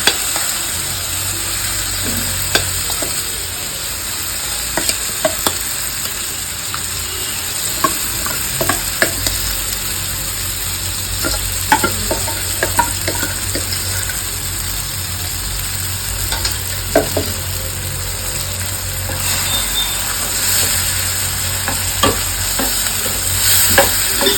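Cooked lentils for mango pappu are stirred into a pan of tempering with turmeric, giving a steady sizzle with repeated scraping and clinking strokes of a spoon that run close and clear throughout, with no talking.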